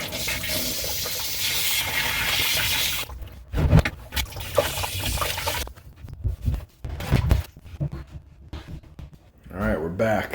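Water blasts from opened plumbing supply valves into a bucket to flush out sediment, a loud rushing gush that stops abruptly, then knocks and handling noises with someone speaking near the end.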